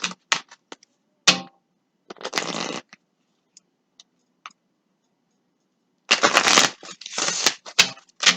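Tarot cards shuffled in several brisk, dry riffling bursts, with quiet gaps and single soft taps between them, close up and with no talking.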